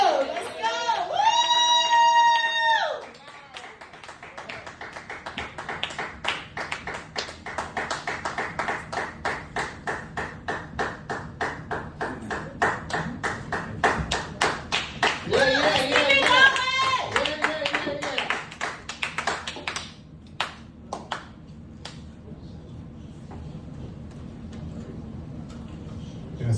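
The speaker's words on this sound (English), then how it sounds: "Let's clap it up really hard." An audience at a spoken word event in a lounge claps in a steady patter that runs for most of the stretch, mixed with a voice and cheers near the start.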